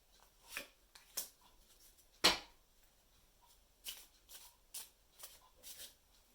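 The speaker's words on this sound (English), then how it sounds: "let's flip your Celtic Fairy playing cards to see where you stand right now" Celtic Fairy playing cards being flipped and laid down during a card reading, heard as soft, scattered swishes and taps spread over several seconds, with one sharper snap near the middle.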